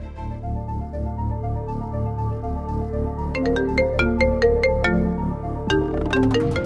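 Mobile phone ringtone for an incoming call, a bright electronic melody of quick repeated tones that grows busier partway through, heard close and clear over a low steady background hum.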